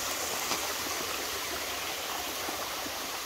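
A small waterfall beside a creek-fed pond gives a steady, close, unbroken rush of falling water with no talking.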